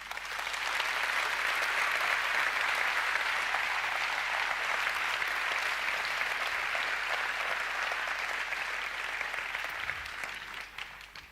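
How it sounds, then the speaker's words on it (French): Audience at a TEDx talk in Rennes applauds two researchers with steady, dense clapping that swells, holds for several seconds, then gradually fades. "Et je vous demande de les applaudir."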